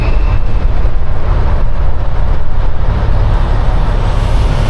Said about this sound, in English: Now comes the traffic going through the Cross Bronx.